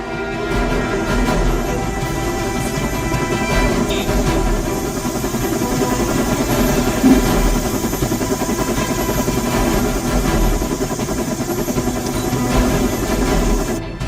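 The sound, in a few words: helicopter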